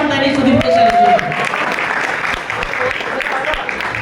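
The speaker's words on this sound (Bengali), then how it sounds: "জোরে হাততালি সুদীপ্ত স্যারের জন্য" A crowd at a creator fan fest in Purulia applauds loudly and steadily, a dense wash of many hands that holds for several seconds after a voice trails off at the start.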